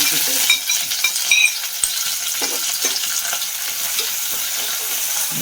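Shallots, garlic, green chili, ginger and curry leaves sizzle in a pan for a village-style fish curry, a steady close frying crackle with a few stirring scrapes and no talking.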